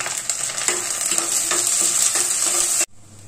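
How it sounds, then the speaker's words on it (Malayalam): Ginger, garlic, shallots, green chilies and curry leaves fry in hot oil for a Kerala-style horse mackerel fish curry, giving a steady close sizzle with a few stirring scrapes, then cutting off abruptly near the end. "പച്ചമുളകും കറിവേപ്പിലയും എല്ലാം ഇട്ട് കൊടുത്തിട്ട് നല്ലപോലെ എൻ്റെ പച്ചമുളക് മാറുന്നത് വരെ ഒന്ന് വഴറ്റി കൊടുക്കുക."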